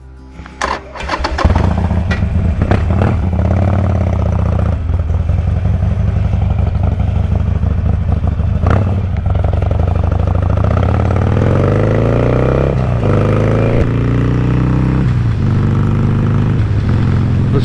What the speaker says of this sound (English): Let me get suited up, get back on the road, and go find a gas station and hope we make it.